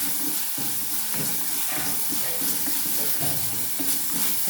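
Onions with ginger-garlic paste sizzle and fry in a pan while a utensil stirs them, a steady close hiss broken by repeated scraping strokes throughout.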